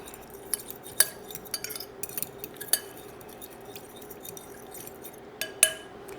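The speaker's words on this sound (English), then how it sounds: "Now we're going to stir this up." Salad dressing of salt and pepper is stirred in a bowl, heard as soft, quiet clinks and taps of a utensil against the dish at an irregular pace.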